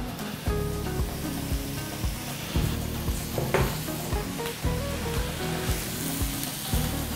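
Onion and mushroom sizzle steadily in a hot pan, a continuous loud frying hiss with occasional stirring scrapes and clacks.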